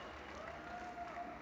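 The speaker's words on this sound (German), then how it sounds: "Ein Applaus für Tim Eckhorst" Audience applause rises at a late-night stage show during Wacken Open Air 2017, a steady, even wash of many hands clapping at moderate volume from a crowd, with a faint sustained tone running underneath.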